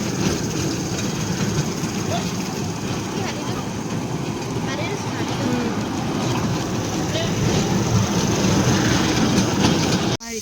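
A toy train ride running at a Brahmaputra jungle resort gives a steady, close rumbling drone throughout, with people talking over it, before the sound cuts off abruptly at the very end.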